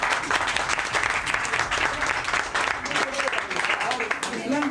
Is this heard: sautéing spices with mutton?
no